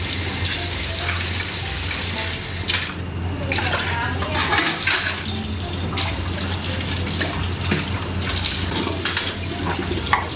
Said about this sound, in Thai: ฟิล์มก็จะมาล้างจานนะคะหลังจากที่ทุกคนกินข้าวเสร็